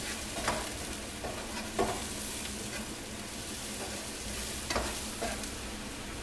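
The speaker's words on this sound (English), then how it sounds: "I've actually diced up a little bit of the leftover prosciutto. I'm just going to throw that in there" Diced leftover prosciutto and sage fry in a pan with a steady sizzle, broken every so often by the scrape of a spoon stirring through them. No one speaks.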